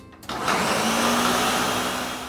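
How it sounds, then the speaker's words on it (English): A kitchen blender whirs on with a sudden start and keeps a steady, loud motor drone, mixing orange juice, milk and instant vanilla pudding mix. "And a box of instant vanilla pudding in the blender. Blend it for a minute."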